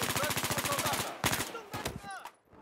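KE7 light machine gun from Battlefield V firing a rapid, evenly spaced automatic burst of about a second, then a few separate loud shots and mechanical clacks trailing off.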